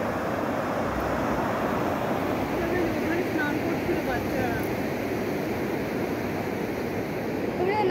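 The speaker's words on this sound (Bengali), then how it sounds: "এইদিকে জলের স্রোত, কি প্রচণ্ড জলের স্রোত" A strong river current rushes at the Panighata picnic spot near Siliguri, a dense, steady roar of water that fills the whole stretch at close range with no letup.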